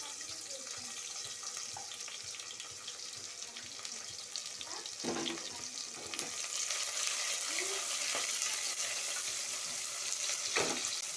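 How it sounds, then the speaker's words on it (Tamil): Chopped onions frying in oil inside a pressure cooker, a steady broad hiss of sizzling with a few louder scrapes and clatters near the middle and end, growing slightly louder partway through, with no talking. "இப்போ இந்த நேரத்தில் நம்ம வெட்டி வச்சுருக்க வெங்காயத்தை சேர்த்துக்கலாம்."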